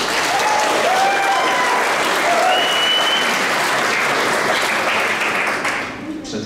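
Loud, sustained concert applause for a brass band at a community cultural centre, a thick continuous roar of many hands clapping that holds for several seconds before tapering off at the end.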